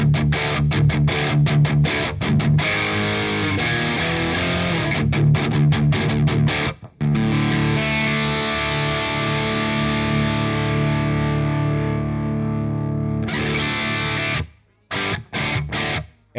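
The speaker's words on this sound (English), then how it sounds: "Sounds like a JCM 800 that's had some work done to it." Distorted electric guitar through an amp simulator with a Marshall JCM 800-like tone, played loud and dense with chugging riffs and sustained chords for about fourteen seconds, briefly cutting out near the end before short stabs return.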